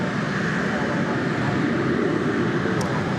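A steady, broadband jet roar from flight 2533 from Philadelphia at DFW Airport at night, a continuous, moderately loud rumble with no breaks.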